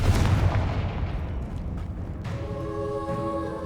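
A Confringo fire spell blasts in Hogwarts Legacy with a heavy, booming explosion that rumbles and fades, followed by a ringing tonal game effect as the echoes die away.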